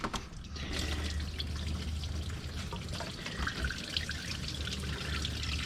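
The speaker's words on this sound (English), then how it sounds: "Break these coolant lines off." Coolant drains from the disconnected oil cooler coolant lines on a Chevy 1.8 engine, a steady faint trickle with small drips splashing into a catch container.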